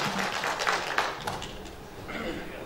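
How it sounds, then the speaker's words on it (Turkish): An audience at a village minstrels' festival applauds the federation president in steady, dense clapping that swells and fades slightly, with voices mixed in underneath. "Kuvvetli bir alkış alalım Federasyon Başkanımıza."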